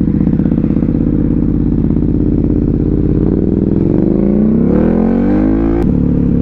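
A KTM 1290 Super Duke R fitted with a Rottweiler intake system revs loud and close, its steady engine note climbing sharply toward the end before a quick blip and drop back, with no talking.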